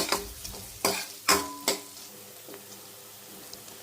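Semiya roasting with turmeric in a pan, with a few soft scraping stirs and light sizzling, close and moderately loud, fading to a quieter sizzle.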